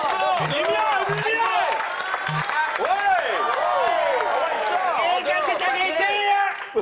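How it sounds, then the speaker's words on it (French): Studio audience clapping on a French television game show as a contestant steps up to spin the wheel, with voices and tonal show sounds layered over the applause. "On l'applaudit tout le monde!"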